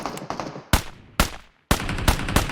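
Groza assault rifle firing in the mobile battle royale game PUBG Mobile, loud close bursts of rapid automatic shots broken by short pauses and one near-silent gap, then a longer stretch of continuous fire, with no talking.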